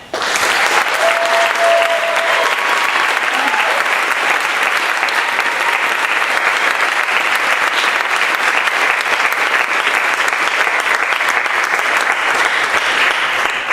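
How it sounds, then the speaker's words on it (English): A room full of people at a community storytelling event gives sustained, loud, dense applause that continues evenly throughout without talk. "we deserve to share a round of applause with all the storytellers, former and current, in the room"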